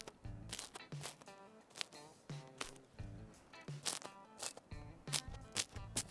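Bites into a crunchy home-made pizza crust topped with basil give a run of sharp, close crunches in quick bursts, with quieter chewing between them.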